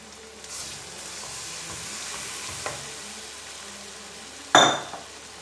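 Soaked semolina gets stirred into roasted gram flour in a pan over low heat, with a soft sizzle, gentle scraping and one sharp clink of a utensil against the pan near the end, close and quiet, with no talking.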